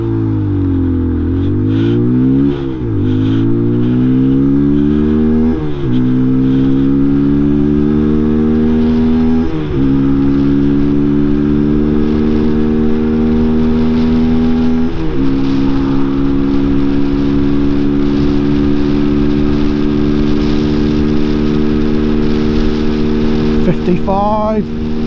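Peugeot PM-01 motorcycle accelerating hard up to 60, engine pitch climbing through several gears with a brief dip at each shift, loud and close throughout, ending in a higher steady drone.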